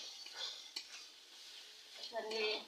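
Cooked chickpeas stirred in a pan for an iftar dish, a quiet scraping and clinking of a spoon against metal over a faint sizzle, with a brief stronger stir near the end.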